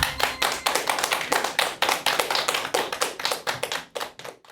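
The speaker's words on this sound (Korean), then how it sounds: "큰 박수 부탁드립니다." A lecture audience claps to welcome author Kim Yun-na at a talk on respectful conversation, with a fairly close, even patter of hands beating in a steady rhythm before tapering off at the end.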